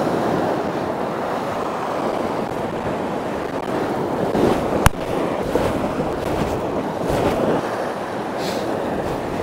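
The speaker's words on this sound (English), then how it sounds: "Seems the sea's getting bigger." Waves roll and wash onto a UK sea-fishing shore as the sea builds. Rumbling, continuous surf is mixed with wind buffeting the microphone, with one sharp click midway.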